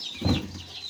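Chickens clucking just after being let out at a home where a flock was raised, a short burst of close clucking calls over a steady low hum, with no talking.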